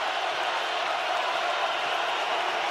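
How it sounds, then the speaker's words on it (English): Football stadium crowd at a Green Bay Packers at San Francisco 49ers game, a steady wide roar of many voices that holds level throughout, distant and dense with no single voice standing out. "Crowd roaring."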